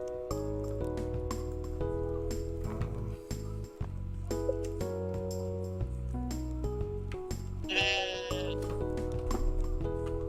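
Sheep bleat in the farming game Stardew Valley, their calls set against the game's continuous tonal background music and a few light clinks, with no talking.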